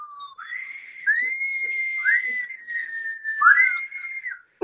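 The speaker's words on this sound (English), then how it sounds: "Right, the whistle come out on that." A whistle is blown on a radio show, a long loud wavering blast with pitch slides and short breaks, close and clear with no speech over it.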